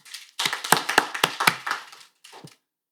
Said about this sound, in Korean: 박수로 좀 환영해 주시죠.